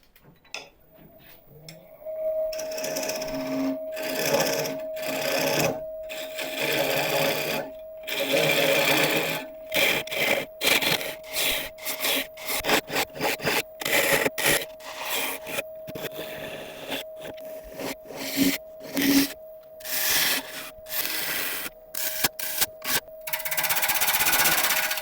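A woodturning gouge being sharpened on a grinder partway through turning a hard false acacia burl: a steady motor whine with repeated bursts of harsh rasping grinding and short pauses between passes.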